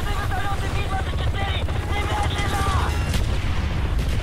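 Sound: helicopters in the video game Call of Duty Black Ops

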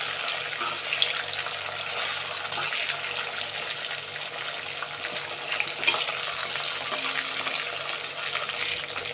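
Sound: chicken frying in oil for chilli chicken

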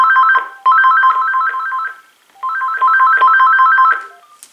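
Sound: AT&T SynJ SB67118 phone ringer ringing

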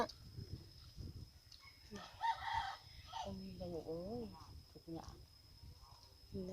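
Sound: chickens and rooster crowing

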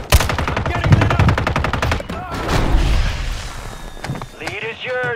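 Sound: gunfire at the player in a video game

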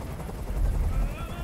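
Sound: helicopter noise in video game Detroit Become Human

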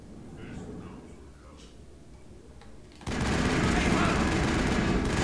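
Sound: gunfire in the video game Mass Effect

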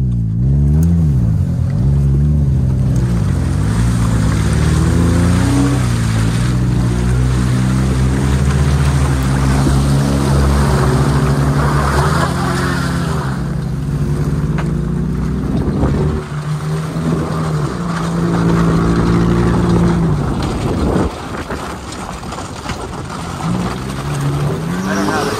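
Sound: Toyota driving through mud

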